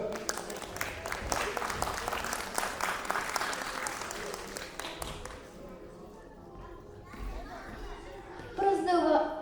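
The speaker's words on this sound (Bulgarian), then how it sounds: "Аплодисменти за Петър" Applause for a prize winner at a school competition ceremony, a burst of clapping that fades after a few seconds, followed by scattered voices and a speaker starting to talk.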